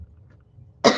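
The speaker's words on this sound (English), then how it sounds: "And I may be coughing the whole time." One sharp, loud cough bursts out near the end after near silence.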